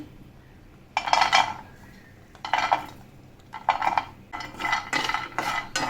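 Almonds, cashews and walnuts dry-roasting in a pan make bursts of rattling and scraping as they are stirred, separated by short quiet gaps.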